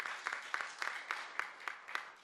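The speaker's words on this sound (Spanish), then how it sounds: "el voto de aplauso para don Gustavo Momellona" Faint, steady rhythmic clapping from an audience, evenly spaced claps in a vote of applause for Gustavo Momellona, with no voices over it.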